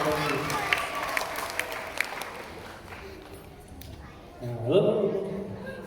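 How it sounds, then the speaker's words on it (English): An audience at a comedy stage hypnosis show cheers and claps in a dense, steady burst for a hypnotised volunteer, fading as a voice speaks over the end. "How about a big cheer for Brock?"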